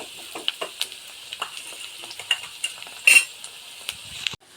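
Onions sautéing in a pan for a fish roe bhurji, a light continuous sizzle broken by frequent sharp clicks and scrapes of a spoon against the pan, close by.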